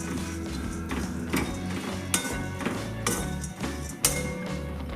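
Cardamom dry-roasts in a kadhai while a spatula stirs, giving close clinks, taps and scrapes of metal at irregular intervals over a soft frying hiss.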